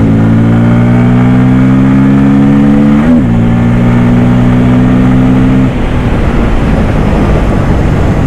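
Bajaj Pulsar N250 motorcycle engine under way: a loud, steady mid-pitched drone with a brief dip and recovery, then giving way to heavy broadband wind and road roar as the ride continues.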